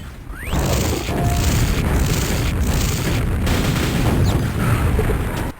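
Grenade explosions in a Quake deathmatch match on the dm4 map, with dense, continuous booming blasts and crashes layered over each other, loud and sustained without any talking.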